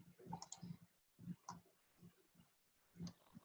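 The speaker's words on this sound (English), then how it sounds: "Why are you clicking like that?" A new computer mouse clicks in irregular, close clusters of sharp little taps, with brief pauses between the bursts and no talk over them.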